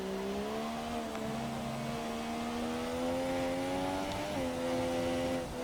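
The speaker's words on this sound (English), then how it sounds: "So the engine is not stuttering anymore." An F1 car engine in the video game F1 2017 drones steadily through a wet lap, a smooth high whine that climbs slowly in pitch and briefly drops at a gear change, constant and fairly close.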